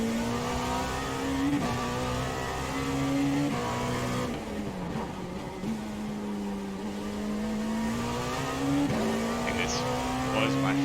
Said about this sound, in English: It's kind of a distinct sound when that traction control kicks in